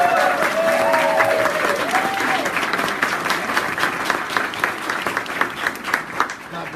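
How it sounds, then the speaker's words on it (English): Applause at a library ribbon cutting ceremony, a loud crowd clapping that starts dense and sustained and then thins into scattered individual claps, with a voice briefly heard over the start. "let's give them a big round of applause."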